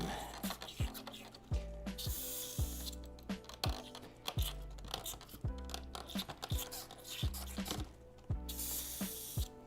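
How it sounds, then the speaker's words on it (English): While an airbrush is cleaned out, repeated short hissing sprays and bursts sound against a busy background of clicks and taps, fairly close and fairly quiet. "just gotta get the airbrush cleaned out here"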